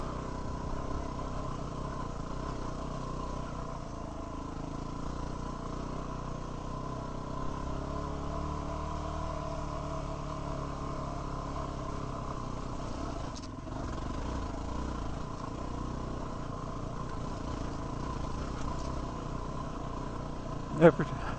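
An off-road motorcycle on an OHV trail in Utah's Arapeen area pulls steadily under throttle without clutch slipping. The engine drones at medium loudness throughout, its pitch rising and falling gently over constant wind and rumble.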